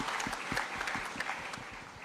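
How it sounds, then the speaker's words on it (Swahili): An audience at a public event gives a short burst of clapping, a moderately loud, fairly rhythmic patter of many hands with a faint crowd murmur beneath. "Tumpigie huyu muungwana makofi jameni."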